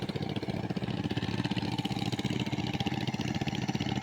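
A seven-horsepower power tiller fitted with wheels plows a grassy field, its small engine chugging in a steady, continuous rhythm close by with no voices.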